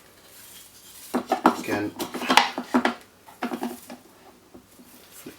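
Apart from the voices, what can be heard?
WoodRat woodworking jig being rotated around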